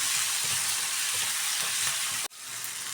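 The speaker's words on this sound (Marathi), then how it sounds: "मिक्स करून थोडंसं हे भाजून घेऊया" Tomatoes and bitter gourd fry in a pan while being stirred, a loud steady sizzle with scraping that cuts off sharply near the end, then resumes more faintly. No one speaks.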